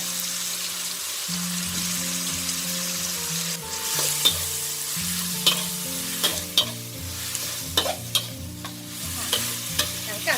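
Pork stir-fried in a pan with white pepper, oyster sauce and sugar, giving a steady sizzle under repeated scraping and clacking spatula strokes, close and moderately loud, with no talk.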